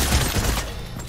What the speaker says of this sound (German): Bis die mal geschossen hat.